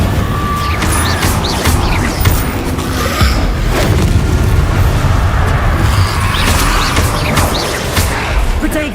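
Fire-spell blasts in the Hogwarts Legacy video game form a dense, loud, continuous roar of booms and crashes. Several bursts swell through it, mixed with other spell effects and battle noise.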